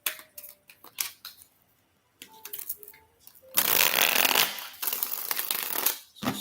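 Tarot cards being shuffled by hand in a quiet room, giving bursts of papery riffling and rustling, with one long sustained stretch of dense shuffling near the middle.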